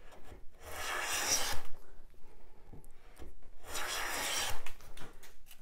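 A hand plane shaves wood in two separate rasping strokes, each about a second long, close and clear, with a quiet pause between them.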